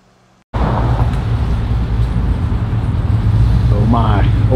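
The Project Phoenix car, a 2006 Mustang with 3.15 gears, roars loud and steady on a dyno after a sudden start from near silence. Excited voices sound faintly beneath the engine.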